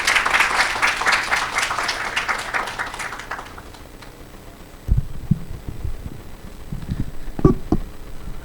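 Audience applause at an ESG forum presentation, a dense burst of clapping for about three seconds that fades, followed by quieter room noise and thumps.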